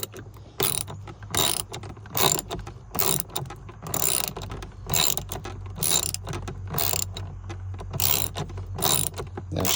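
A ratchet wrench loosening a bolt on a Jeep Wrangler JL during a CB radio mount install, with repeated bursts of fast, close clicking strokes separated by short pauses.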